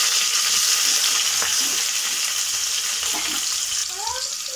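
Roughly chopped onions go into hot oil with fried spices, setting off a loud, continuous hiss and sizzle with faint stirring, and two brief chirping sounds near the end.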